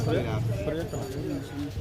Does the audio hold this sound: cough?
no